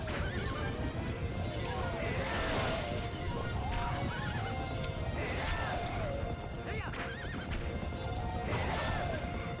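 Horses neigh and whinny several times in Zelda: Twilight Princess, with clip-clopping hooves running steadily underneath and busy game effects throughout.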